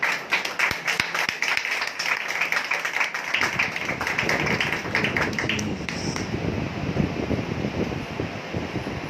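An audience at a church gathering claps in sustained, dense applause, steady and fairly loud throughout, with the clapping thinning slightly toward the end beneath a rushing, breathy background.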